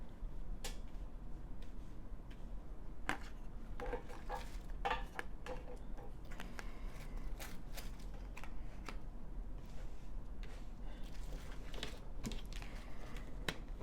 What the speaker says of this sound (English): My shuffles take a long time